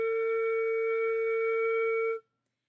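A low flute note held steady and clear for about two seconds before stopping cleanly, played as the starting note of a lip flexibility exercise, with no talk.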